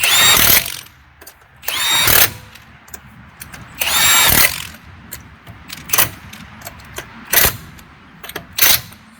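An impact wrench tightens the lug nuts on a car wheel in several loud, close bursts, some long and some only a quick tap, with short quiet gaps between them.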